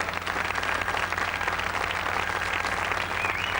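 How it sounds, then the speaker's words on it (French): Steady, dense applause from a TV studio audience at a 1987 New Year's Day carnival broadcast, clapping continuously at moderate loudness with no voices. "François Henri Chapier, applaudissez-les encore quand même."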